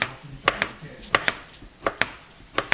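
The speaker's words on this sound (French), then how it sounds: "On va couper quelques cubes de tofu nature." Knife chopping plain tofu into cubes on a cutting board, a series of about ten crisp, close taps coming in small irregular pairs, quiet and dry with no talking.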